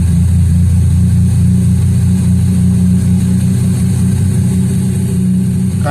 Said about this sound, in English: Kind of in that 13 to 1400 RPM range for a high cold idle.